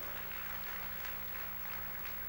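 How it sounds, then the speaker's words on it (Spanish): Congregation applauding during a church service, a steady, dense wash of clapping that continues without a break for the whole stretch, fairly faint and distant-sounding. "denle un aplauso al Señor"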